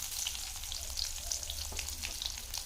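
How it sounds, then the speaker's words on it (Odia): Onion fries in hot oil with a soft, steady sizzle and crackle, close but fairly quiet, with a low hum underneath and no voices. "ଏବେ ମୁଁ ପିଆଜ ଦେଇ ଦଉଛି।"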